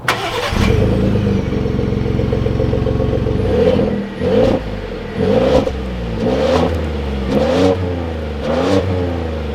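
A 2021 Ford F-150 Lariat pickup truck engine turns over and settles into a steady idle, then revs up and down repeatedly, loud and close.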